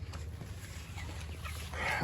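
Meat chickens raised as broilers cluck softly and steadily inside a coop, a low continuous murmur of fowl with a few brighter calls rising near the end, no speech over it.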